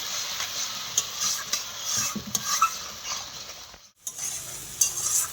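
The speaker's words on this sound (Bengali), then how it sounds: "হলুদ দিয়ে দিচ্ছি পরিমাণ মতন দিয়ে আমি ভালো করে কষিয়ে নেব মশলাটা" Spice paste with salt and turmeric sautéed in a pan for a potato and paneer curry, steady sizzling broken by repeated spoon scrapes and stirs, with a brief pause near the end.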